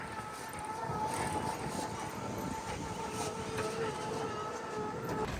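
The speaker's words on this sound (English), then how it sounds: "Goodbye, tram car." A tram car rumbles past with a steady clattering roll and a faint high squeal, loud and continuous throughout.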